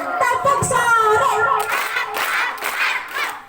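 Children clapping hands in a "tepuk sore" clap routine: quick rhythmic claps mixed with young voices chanting along, close and lively, ending in a short burst of claps.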